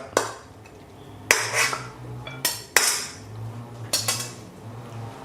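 Plates, pans and utensils clink and clatter in a kitchen while pork rib stir-fry with red curry paste is served onto a plate, a handful of sharp metallic hits spaced irregularly over quiet background.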